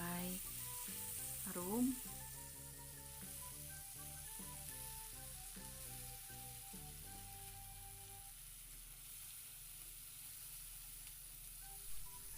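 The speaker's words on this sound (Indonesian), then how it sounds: "Kemudian tumis bumbu halusnya. Tumis sampai matang atau sampai" Ground spice paste sizzling and frying in a pan for a yellow sour-spicy snapper head soup, a steady close hiss with faint stirring, and a voice briefly heard over it.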